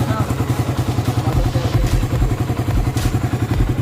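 A 2022 carbureted Suzuki Raider 150 idles with a cold engine, its steady rapid ticking and clattering beat pulsing close and loud over the low engine thrum, with a voice talking faintly underneath.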